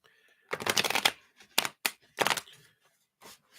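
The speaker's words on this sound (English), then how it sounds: "Give these a shuffle" A deck of cards is riffled and shuffled by hand for a reading, several crisp bursts of rapid flicking separated by short pauses, close and clear.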